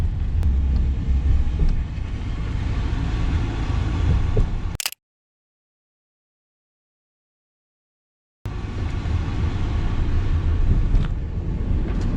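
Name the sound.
car engine accelerating on a straightaway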